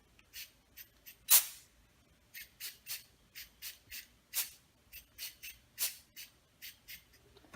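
Short bursts of spray paint hiss onto glass in an irregular series of quick puffs, fairly quiet and close, with one louder blast near the start.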